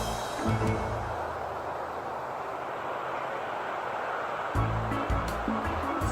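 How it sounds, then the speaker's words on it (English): An outdoor fountain beside a pool and hot tub in Estero, Florida splashes in a continuous dense rush of falling water. A low rumble fades in and out underneath it. "there's a beautiful fountain"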